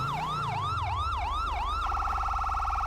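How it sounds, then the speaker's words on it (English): A police car siren in the video game GTA V with the LSPDFR mod wails loudly in repeating sweeps, then switches to a rapid yelping warble, close by and continuous. "Cut the sirens."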